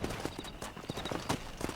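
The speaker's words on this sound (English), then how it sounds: "Do I really gotta hitch my horse every time?" Horse hooves clip-clopping in the Red Dead Redemption video game, a steady run of light hoof strikes at moderate distance, alone without talk.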